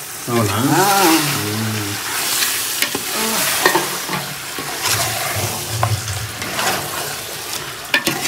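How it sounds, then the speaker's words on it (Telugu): Marinated chicken for Hyderabadi dum biryani, about 3 kg, stirred in hot oil in a large pot, with steady sizzling and frying throughout, scraping stir sounds and occasional clanks, while a voice talks over it. "కొద్దిగా లైట్గా కలుపుకొని చక్కగా నూనెలో ఒక 10 నిమిషాలు మగ్గనిద్దాం"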